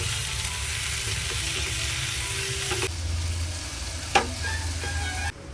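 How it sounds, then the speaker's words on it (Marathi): Tomatoes added to sautéed onion sizzle steadily in a pan for paneer bhurji, with a brief spoon scrape near the end; no one speaks. "त्यामध्ये आपण टोमॅटो टाकतोय. तर टोमॅटोला सुद्धा छान असे परतून घेऊया."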